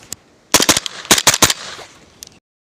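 Brownells BRN-180 Gen 2 rifle fired in quick bursts outdoors, loud sharp reports in two rapid clusters of about four shots each, followed by a single fainter shot and a short trailing echo.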